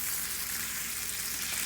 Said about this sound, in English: this is actually my first time cooking a burger in the kitchen